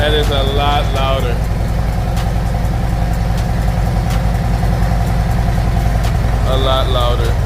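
A 2025 Harley-Davidson Road Glide fitted with a SharkRoad slip-on exhaust idles loud and close, a deep steady rumble throughout, while someone talks briefly at the start and end.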